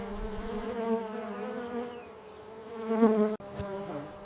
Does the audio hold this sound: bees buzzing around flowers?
yes